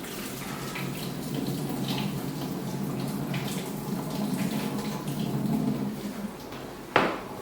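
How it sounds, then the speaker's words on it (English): Boiled potatoes being drained at a kitchen sink: a steady rush of pouring water and splashing runs throughout, ending in a sharp clank of the pot near the close, with no talking. "Drain out my potatoes."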